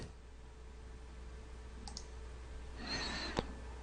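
A computer mouse gives a faint single click at close range, followed by a brief soft rustle and one sharper tick over a quiet room hum.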